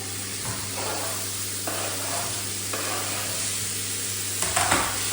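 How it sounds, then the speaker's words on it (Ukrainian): Food sizzles steadily in a hot pan, a constant crackling hiss with occasional stirring scrapes and a louder burst near the end. "Все, відправляю все на сковорідку."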